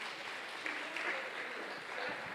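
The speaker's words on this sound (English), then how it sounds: "a round of applause" Steady applause from an audience, a dense wash of clapping that holds evenly throughout without any voices standing out.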